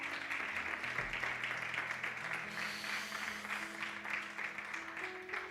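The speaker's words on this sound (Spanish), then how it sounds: "Dale un aplauso fuerte a Jesús." Church congregation applauding during a sermon, giving a steady, dense wash of clapping that sounds somewhat distant and reverberant, with music or a sustained tone underneath and no break for the whole stretch.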